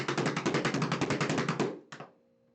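Controlled tap dance shuffle steps in a quick, even run of crisp taps, close and clear, ending in a pause and one last tap.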